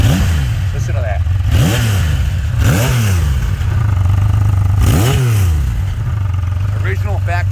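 1982 Kawasaki KZ1300 six-cylinder motorcycle with original factory exhaust revved in several sharp throttle blips that rise and fall over a steady idle, close and loud, with someone talking at the start.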